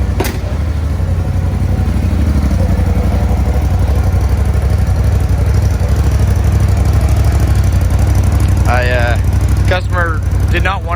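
Turbocharged Polaris RZR Pro 4 Ultimate UTV engine idling close up after a cold start, a loud, even, throbbing rumble throughout, with a person talking briefly near the end.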